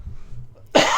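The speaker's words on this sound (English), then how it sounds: "the listeners are gonna love the coughs" A single sharp, loud lingering post-COVID cough bursts out near the end after a stretch of quiet low murmuring.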